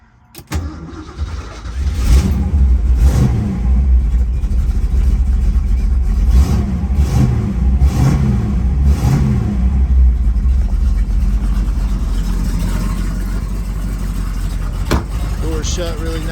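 1968 Shelby GT500 KR convertible with a factory 4-speed, its V8 cranking and catching, then a loud close rumble with several throttle blips and revs that settle into a steady idle, with a person talking faintly over it.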